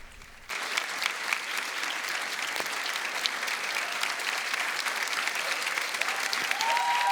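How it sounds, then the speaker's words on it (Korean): Choir singers and priests applaud at a Catholic youth festival, a broad, continuous wash of clapping that starts abruptly and holds steady at moderate loudness. "크게 우리 사제들과 우리 음악하시는 분들이 박수를 쳐드리겠습니다"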